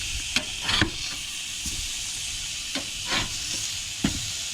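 Burgers sizzle on a grill during van-life cooking, a constant close hiss broken by several sharp scrapes and clicks as patties are flipped, with no talking.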